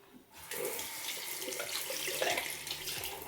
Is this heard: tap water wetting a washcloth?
yes